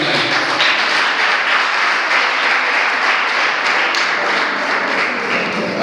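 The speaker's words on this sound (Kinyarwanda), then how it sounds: "Ndagira ngo nabo mu minsi amashyi tubashimire by'umwihariko." A crowd at a Rwandan church concert applauds steadily, a loud, dense wash of clapping that holds for several seconds without speech.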